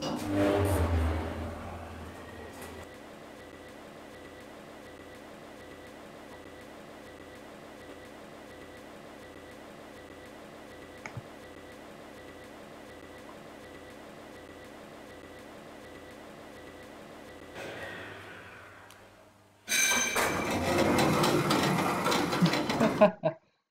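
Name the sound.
1980s Gen 2 traction elevator running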